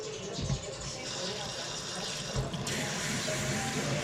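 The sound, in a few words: water being poured into a pan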